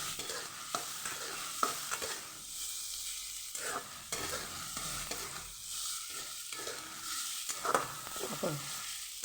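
Onions being stirred and sautéed in a pan for Kathiyawadi baingan masala, a soft steady sizzle with scraping and clinking spoon strokes at close range, no talking.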